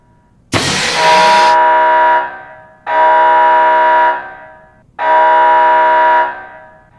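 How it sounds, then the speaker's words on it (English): Fire alarm in an Alien role-playing game session: a loud, harsh horn-like blast sounds three times in a regular rhythm, each tone lasting over a second with short gaps, alone without talk. "You've got the fire alarm there"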